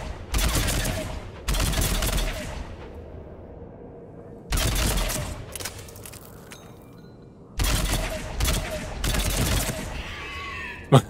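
Bursts of automatic gunfire from a Mass Effect 3 firefight, three to four loud sustained volleys separated by short lulls of ambient game hum, with a sharp crack near the end.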